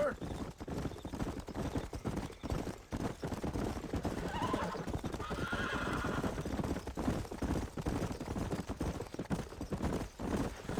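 Horses in the Red Dead Redemption video game neighing and whinnying with steady clip-clopping hooves on a ranch, loud and close, mixed with talk.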